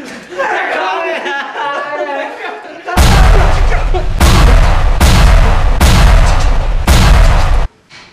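Five loud gunshots ring out in steady succession, each a sharp booming blast, after an excited voice shouts over a noisy crowd; a comedic Jurassic Park commercial parody.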